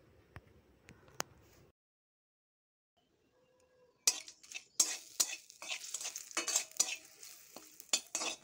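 Whole garam masala, dried red chillies, bay leaves and a pinch of panch phoron crackle and sizzle in hot white oil in a wok, with scattered clinks and stirring scrapes building after a quiet start.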